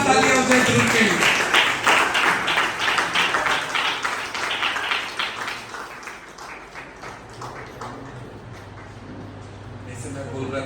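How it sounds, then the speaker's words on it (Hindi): Applause at a graduation ceremony, honoring a drummer, swells under a voice at first and then gradually fades, leaving a quieter room. "जोरदार तालियां हो जाए"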